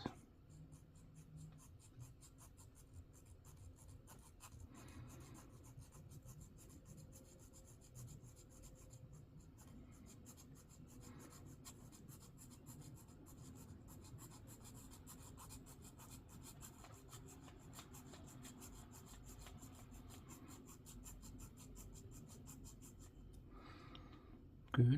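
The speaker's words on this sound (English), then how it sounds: "got this little saw here, and I'm going to carefully cut this" Small hobby saw cutting a plastic Gundam model kit part, a long, steady, faint rasping stroke pattern that continues close by with no talk.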